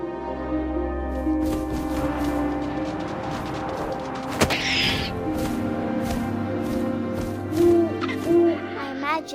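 An owl hoots a few times in the What Remains of Edith Finch video game, soft tonal calls over a low ambient musical drone with a sharp crack partway through.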